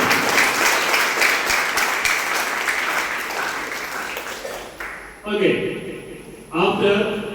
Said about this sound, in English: Give a big clap for the teachers.